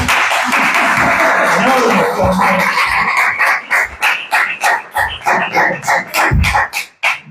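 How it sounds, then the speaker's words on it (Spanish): Applause from a crowd at a talk in Chillán, Chile, a dense steady patter of clapping that thins toward the end into separate claps. "Un aplauso para Fran Morris."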